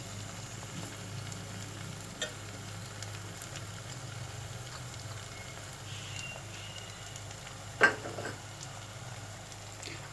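Tomatoes and crushed fried red chillies fry in a pan with a soft, steady sizzle, a few faint clinks along the way, and one sharper knock near the end.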